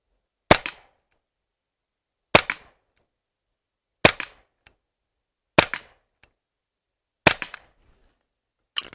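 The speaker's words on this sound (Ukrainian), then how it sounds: "і знову 5 пострілів по паперовій мішені" Five sharp, loud CO2 air pistol shots (4.5mm Glock 17) at a paper target, spaced about one and a half seconds apart, each with a quick crack and brief rattle, in otherwise silent surroundings.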